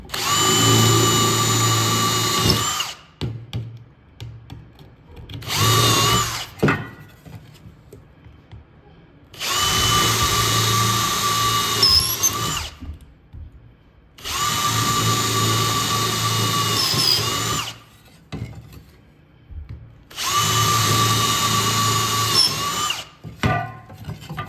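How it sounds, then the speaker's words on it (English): A power drill whines in five separate bursts while drilling mounting-screw holes for gauges, several lasting a few seconds, with short quiet gaps between them. "Just gonna drill the holes for my mounting screws."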